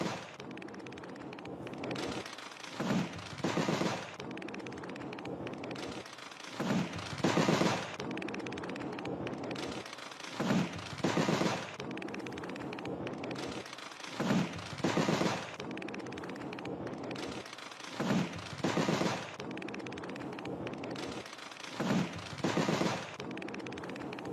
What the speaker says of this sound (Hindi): 26 से 27 अप्रैल की रात छोटे हथियारों से फायरिंग हुई।